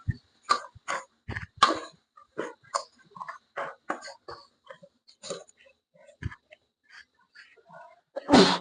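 A person sneezes sharply at the start while cooking a banana-stem curry with beef, followed by a string of short, choppy vocal bursts and talking.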